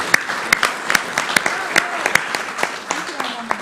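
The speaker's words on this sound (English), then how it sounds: "let's just have one more round of applause for Tyler Dogan's parents" An outdoor crowd at an Australia Day celebration in Ballina Shire applauds parents of a young athlete, with loud distinct claps over a steady patter of clapping, and a voice speaking briefly near the end.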